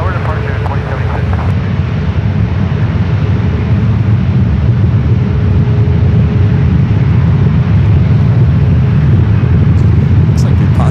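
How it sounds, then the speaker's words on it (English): A United Boeing 757 jet airliner, 27 years old, departing San Francisco airport, a loud continuous engine roar filling the scene throughout with a faint voice in the background. "United 2076, 10 seconds on departure"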